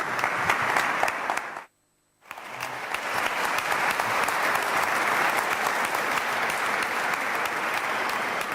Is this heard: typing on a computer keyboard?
no